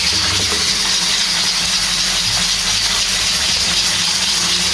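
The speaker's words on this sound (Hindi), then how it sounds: "चिकन हमारा फ्राई हो रहा है" About 1.5 kg of chicken fries in a karahi, giving a loud, steady sizzling hiss that runs unbroken throughout with no talking.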